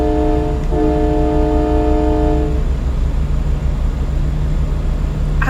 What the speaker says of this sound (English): I absolutely love the horn on this thing. It sounds like a train.